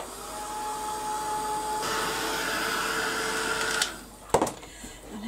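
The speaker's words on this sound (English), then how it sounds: "I'm just going to give that a quick blast with the heat gun" A heat gun blasting while a box is being crafted, a steady loud whine and airflow hiss that shifts pitch midway and cuts off near the end, followed by a couple of clicks.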